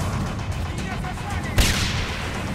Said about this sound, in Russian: Там граната летит.